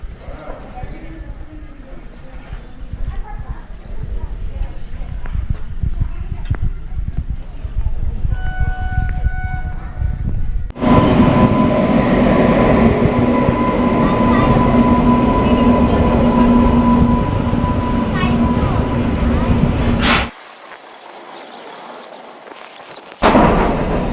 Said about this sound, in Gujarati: હાલો ટ્રેન આવી ગઈ છે